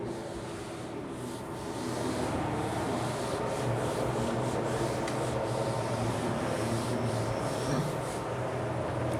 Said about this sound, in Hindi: मैं रब कर रहा हूँ अब।